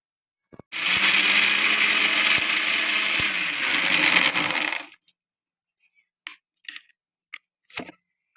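Tomato paste grinding in a kitchen blender: a loud, steady motor whir with churning for about four seconds, then it stops, followed by a few faint, brief clicks and knocks in near silence.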